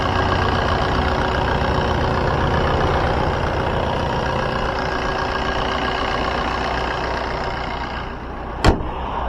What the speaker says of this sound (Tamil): இப்போ வாங்க வண்டியோட இன்ஜின் சவுண்ட் எப்படி இருக்குது அப்படின்றத கேட்போம்.